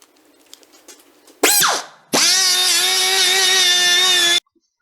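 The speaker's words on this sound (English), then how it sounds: "what I use now is this angle die grinder with a sanding pad attachment" An angle die grinder with a sanding pad attachment, used to clean gunk from an axle tube. After faint handling noises it spins up in a short burst, winds down, then runs at a steady high whine for about two seconds and cuts off.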